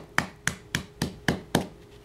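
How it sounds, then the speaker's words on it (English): A hammer strikes a rocket engine wrapped in cloth six times in an even rhythm, roughly every quarter second. Each blow is a sharp, close thud that fades quickly, with faint quiet between the strikes. "hit it with a hammer"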